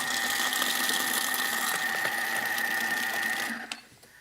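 A food processor blends a paste until smooth with a steady, high motor whir and hum, close and loud, running continuously before cutting off near the end.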